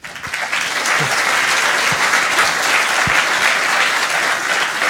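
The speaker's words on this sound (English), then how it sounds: "can we give them one big hand of applause?" An audience at a HeForShe United Nations event at BCIT gives one big hand of applause, loud and sustained clapping close by with a few sharper claps standing out.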